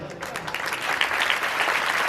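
A church congregation applauds during a sermon on the Second Coming, a dense, swelling wash of many hands clapping with some voices mixed underneath.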